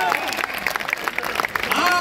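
Audience applause for a speaker's tribute, dense clapping mixed with cheering voices and shouts from the crowd over a short burst.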